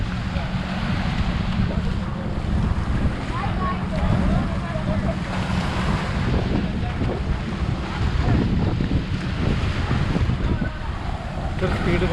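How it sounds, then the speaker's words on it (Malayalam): Speed boat out on the sea at Khorfakan Cristal Beach, a low engine drone blended with waves and heavy wind buffeting the microphone, steady and continuous, with a voice faintly talking over it. "ഇതൊരു സ്പീഡ് ബോട്ടാണ്."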